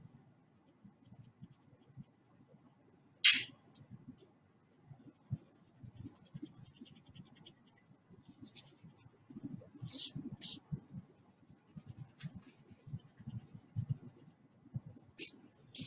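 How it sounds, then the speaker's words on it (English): Pencil lines are erased on drawing paper with quiet, irregular rubbing and scratching strokes, with a few sharper scrapes spread through a near-silent room. "now I can erase the part of the horizon line that goes through my shape"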